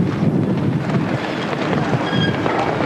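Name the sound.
strong wind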